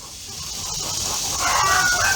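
A chicken crows on a Pennsylvania colonial plantation farm. The rising call comes in toward the end over a steady outdoor background, moderately close and with no one talking.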